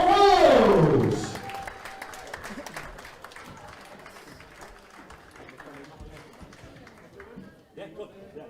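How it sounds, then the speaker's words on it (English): An audience applauds the Welsh team at the Celtic Challenge 2018 event: after a loud announcer's voice, scattered clapping and crowd chatter carry on at a moderate level beneath other voices. "Once again, a round of applause for the ladies and gentlemen of Wales!"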